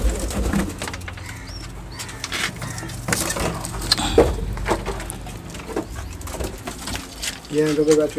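Pigeons cooing in a loft with chicks, soft repeated coos close by alongside occasional wing flutters and shuffling, with a person talking intermittently.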